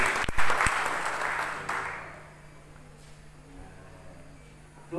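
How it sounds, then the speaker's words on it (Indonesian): A church congregation bursts into loud applause during a sermon; the clapping peaks at the start, then fades away within about two seconds into a quiet room with faint background hum. "Beri tepuk tangan."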